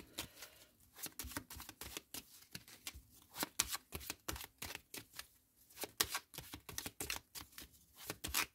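Tarot cards are shuffled by hand in a quiet room, with a rapid run of crisp riffling flicks and soft slaps coming in quick uneven bursts, close and faint.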